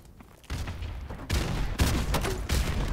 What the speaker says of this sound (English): it's all with grenade launchers on each gun